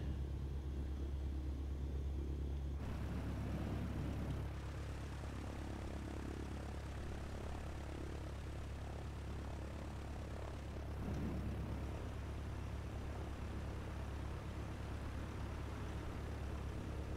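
A Cessna C152 piston engine in Microsoft Flight Simulator 2020 idles and taxis at an airfield, a steady droning rumble with propeller hum that stays loud and continuous throughout, with no talk.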